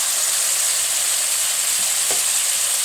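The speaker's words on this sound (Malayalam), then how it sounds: "ഇതെല്ലാം കൂടെ നമുക്ക് നന്നായിട്ടൊന്ന് വഴറ്റിയെടുക്കണം" Curry leaves with crushed ginger and garlic sauté for a crab roast, giving a steady bright sizzle of hot oil throughout, with a faint stirring scrape near the end.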